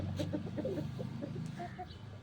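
A rooster named Hitler gives a quick series of close, rhythmic clucks, then a couple of softer calls near the end, with little else around.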